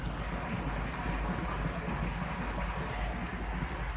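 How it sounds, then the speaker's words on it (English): Steady rushing water pours continuously from a generator-powered pump with a low mechanical rumble underneath, loud and constant throughout with no pauses. "that's the sound of water."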